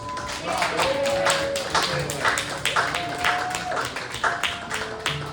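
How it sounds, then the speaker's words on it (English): A seated audience at a poetry event breaks into a round of applause for the poets as they stand, a dense patter of claps mixed with voices. "Would our poets please stand and receive a round of applause?"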